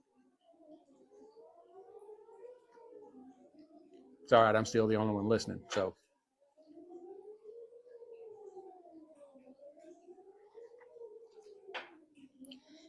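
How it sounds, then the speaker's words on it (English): A distant tornado siren test wails with a slow rising and falling tone, steady in the background, interrupted briefly by a person speaking up close. "You may be able to hear that in the background. Testing the tornado sirens."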